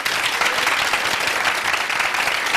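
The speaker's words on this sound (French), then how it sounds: "Applaudissez pour vous-même maintenant" A TV studio audience clapping, loud, continuous applause from a crowd filling the whole clip.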